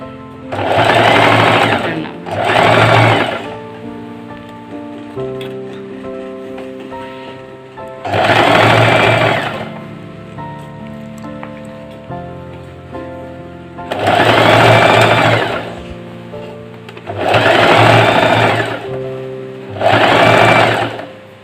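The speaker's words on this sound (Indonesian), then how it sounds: "Saya akan tunjukkan jahit kalau ke arah dalam." A sewing machine stitches a traditional Kadazandusun garment in six loud, steady runs of rapid needle chatter, separated by quieter pauses with faint handling sounds.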